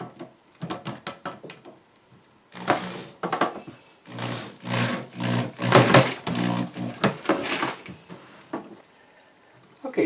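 Small screws driven with a hand screwdriver into pre-drilled holes while fitting drawer tracks on an IKEA dresser, heard as a series of close, irregular ratcheting clicks, scrapes and wooden knocks with short pauses between bursts.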